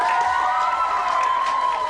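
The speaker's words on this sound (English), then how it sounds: "Big round of applause," Steady crowd noise from a studio audience, clapping and cheering blended into a continuous roar that holds level throughout.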